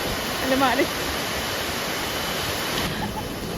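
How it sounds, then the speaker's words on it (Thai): The Lata Bayu waterfall in Baling, Kedah, roars as a steady, close, broadband rush of falling water, with a brief voice near the start. "เราก็จะมาเล่นน้ำตกตรงนี้กันครับ"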